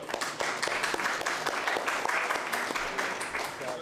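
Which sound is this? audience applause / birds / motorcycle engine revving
audience applause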